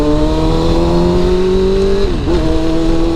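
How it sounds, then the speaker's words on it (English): A motorcycle engine drones at a steady pitch, then blips quickly as the rider revs it while downshifting, heard loud and close with no talk. "I downshift and I rev it at the exact same time."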